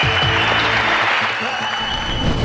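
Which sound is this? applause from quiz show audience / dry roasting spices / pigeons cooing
applause from quiz show audience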